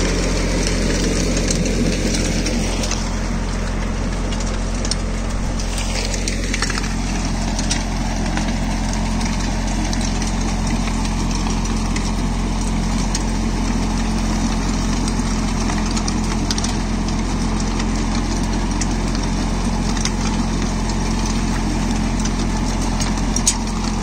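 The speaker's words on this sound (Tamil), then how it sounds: "டிராக்டர் ஒட்டியே வருது பாருங்க இம்ப்ளிமெண்ட்டு." A VST 922 mini tractor engine runs steadily while driving a PTO-operated bed-forming farm implement, a continuous close mechanical drone with vibration throughout, with no talking.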